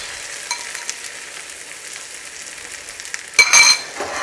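Spinach and sun-dried tomatoes fry in olive oil over high heat in a pan, a steady soft sizzle with a sudden louder crackling burst near the end, no voices.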